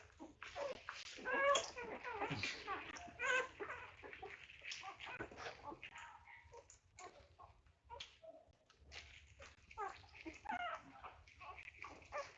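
Puppies in a litter whimper and yip in repeated high, thin cries, some close and loud, with soft rustling and background noise between the bursts.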